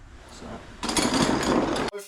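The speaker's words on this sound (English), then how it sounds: "I'm trying to get a bolt off and it won't come off." A rusted, stuck bolt on a Ford Focus is worked with hand tools, giving a short burst of harsh metallic grinding and rattling that cuts off abruptly, followed by a brief scrape.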